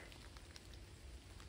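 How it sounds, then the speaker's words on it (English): Steady rain falls on a muddy forest trail during a run, a continuous close hiss of drops pattering on leaves and ground with no talking. "Can you hear the rain?"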